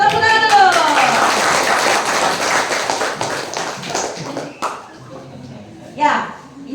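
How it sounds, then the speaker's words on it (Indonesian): Students and audience at a vocational high school outreach event in an Indonesian junior high school break into a burst of clapping that fades after a few seconds, with brief voices and shuffling at the end. "Tepuk tangan dulu."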